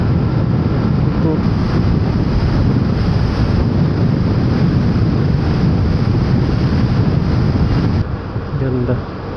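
Strong wind roars in a heavy, constant rush against the microphone of a rider on a Vespa heading toward Kaybiang Tunnel. It drops slightly near the end, when a faint voice comes in.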